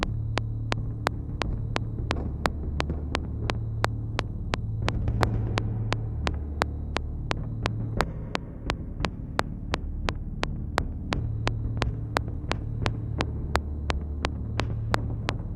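Deep war drums from a software instrument library pound in a steady, evenly spaced rhythm of sharp hits over a rumbling low drone, loud and continuous without any voices.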